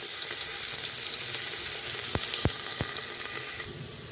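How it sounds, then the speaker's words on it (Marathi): Onion frying in hot oil with a little melted ghee, a steady close sizzle throughout, punctuated by three sharp clicks or taps near the end before the sizzle softens slightly. "आता आपण त्याच्यामध्ये कांदा घालून घेणार आहे"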